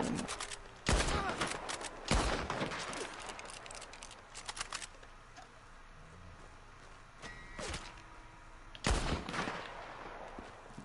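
Gunfire from the Red Dead video game: a few loud, sharp shot bursts come spaced apart over faint background ambience, with a voice speaking quietly between them.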